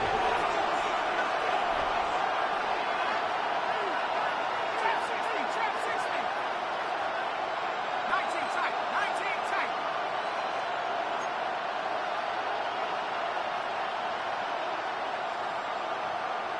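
A stadium crowd roars steadily in the Madden American football video game, a loud, continuous wash of cheering under a play-by-play commentator's voice.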